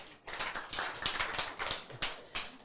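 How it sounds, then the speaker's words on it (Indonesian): A small audience claps in a short burst of uneven, fairly close handclaps at moderate volume, individual claps distinct rather than blended into a roar. "Tepuk tangan."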